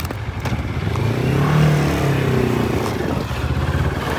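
Motorcycle riding off from a home stop, its engine revving up and swelling loudly as it pulls away, then settling into a steady running drone.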